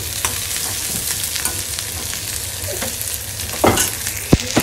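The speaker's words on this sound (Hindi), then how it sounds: "अब चावल फ्राई करो।" Rice frying in a pan, a continuous close sizzle broken by irregular scrapes and clacks of stirring, with a sharp utensil knock near the end and no talking.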